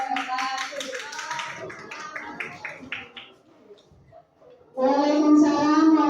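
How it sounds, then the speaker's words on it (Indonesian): Classroom applause after a group presentation: a burst of many hands clapping, fairly close and loud, following a stretch of children's chatter and scattered taps. "tepuk tangan yang meriah"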